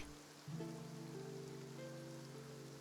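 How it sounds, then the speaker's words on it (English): Steady, soft rain falls across a city in the video game Genshin Impact, a quiet continuous patter beneath sustained music tones. "Oh my god, it's raining inside the city?"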